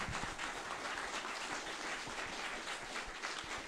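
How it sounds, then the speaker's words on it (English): A candidate forum audience claps together in a soft, steady patter that sounds faint and a little distant, an even wash of many hands without a clear peak or voices. "can we give a big round of applause for these folks?"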